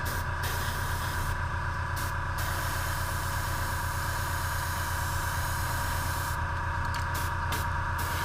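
Airbrush spraying paint onto a bluegill fish lure, a continuous close hiss of air and paint with brief breaks near the start and end, no voices.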